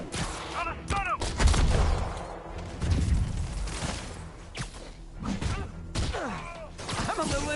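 Bursts of gunfire and impacts from the Spider-Man video game crackle in quick volleys with whooshes and thuds, mixed with in-game voices calling out over the action.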